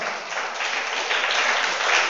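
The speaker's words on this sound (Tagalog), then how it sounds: "Palakpakan muna natin muli ang ating Panginoon." A church congregation claps together in steady, dense applause that swells slightly toward the end, filling the room with no voices over it.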